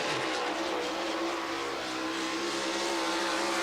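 A World of Outlaws sprint car roars past on its first lap at I-55 Raceway Park, a loud, steady engine howl holding close throughout with no gaps.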